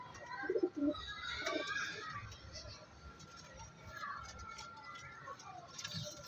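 Royal Teddy pigeons cooing, with a few soft low coos near the start over faint background bird chatter and ambient noise, all at moderate level.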